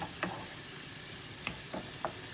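Mushrooms with onion, carrot and a little flour stew in a pan, giving a quiet continuous sizzle with a few soft stirring scrapes.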